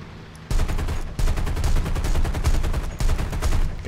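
Aircraft machine guns in War Thunder historical mode, a dogfight between an F4U and a BF-109, fire a series of loud, rapid bursts separated by brief pauses, with the engine drone underneath.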